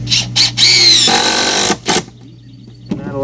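A power tool drives a screw into a pool deck board in short, loud bursts: a few quick whirs, then one longer sustained drive, followed by a brief burst and quiet.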